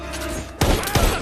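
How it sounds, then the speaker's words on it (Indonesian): Gunfire in a heist film scene, two sharp loud shots in quick succession over a low background rumble. "tiba-tiba Luke menembak para timnya."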